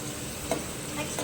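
Chopped tomatoes are stirred in a frying pan for poha, with a soft hiss of frying under a couple of brief utensil scrapes, heard close.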